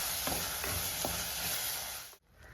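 Ground paste stirred into well-cooked tomatoes in a pan, a steady close sizzle with a few soft scrapes of the spoon, then a sudden drop to near quiet at the end.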